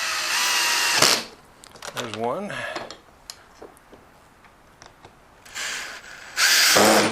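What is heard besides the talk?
Ryobi power drill installing casters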